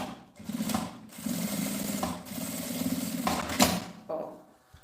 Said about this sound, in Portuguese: coloca o tecidinho assim, passa a costura